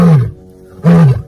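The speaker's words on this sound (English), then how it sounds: "a real lion's voice is actually much raspier and way less majestic" A real lion gives two short, raspy roars, loud and close, separated by a brief pause.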